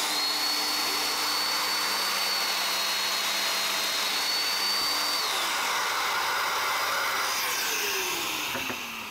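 A Festool Domino DF500Q joiner whines steadily at full speed while machining a half-mortise in wood, a loud continuous tone that slides slightly in pitch as the cutter bites, no talk.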